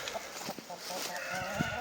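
Chickens on a farm, not yet laying, cluck softly in a steady, busy backdrop, with a few louder individual clucks standing out near the end.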